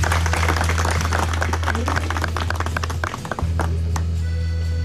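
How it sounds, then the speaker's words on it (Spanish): An audience claps throughout at a rescue event for two bears, a steady crowd of hands over a low hum, briefly thinning before continuing. "Gracias por los aplausos."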